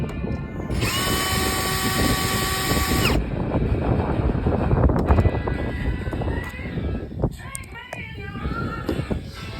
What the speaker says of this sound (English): I'm going to unscrew these 4 bolts and see if this whole panel comes off as one